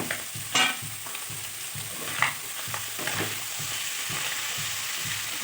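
Ground spice paste frying with onions in a pan for a Kerala netholi (anchovy) roast, a steady close sizzle broken by repeated scraping stirs, with no talking.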